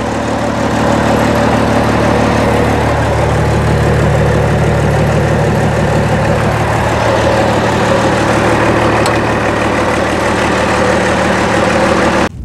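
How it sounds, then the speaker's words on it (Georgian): A naturally aspirated Mercedes Unimog 424 U1000 diesel engine idles loud and close, a steady low rumble that continues evenly until it cuts off at the very end. "აი ესეც ჩვენი ძრავი. დიზელის ძრავია."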